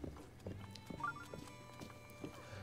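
Horse hooves clip-clop faintly in Zelda: Breath of the Wild, a few soft, irregular steps at slow pace with light game ambience around them.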